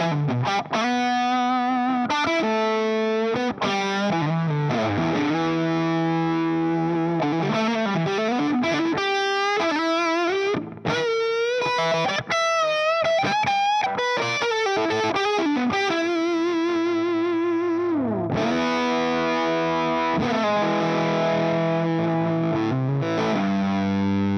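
A PRS electric guitar run through overdrive, played continuously for about 24 seconds as a rich, sustained stream of chords and single-note lines, loud and close, with no talking.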